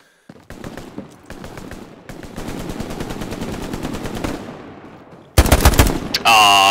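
Rapid bursts of video-game machine gun fire, a quick sharp run of shots that thickens into sustained automatic fire, then cuts to louder, heavier blasts at the end, close and dominant.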